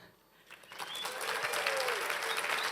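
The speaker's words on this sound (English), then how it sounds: "What you're going to do is clap and cheer for your favorite." A conference audience at the DrupalCon Barcelona 2015 closing session breaks into clapping and cheering to vote, rising from quiet to a sustained roar of applause.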